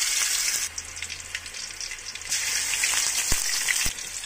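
Mustard seeds and ginger-garlic paste fry in hot oil for a mutton curry, giving a steady broadband sizzle with a couple of sharp clicks near the end and no talk.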